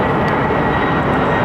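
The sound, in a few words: Boeing 767 aircraft at London Heathrow Airport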